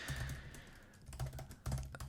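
Faint computer keyboard typing in uneven bursts of soft key clicks and thumps, with a short lull in the middle, heard alone without talking.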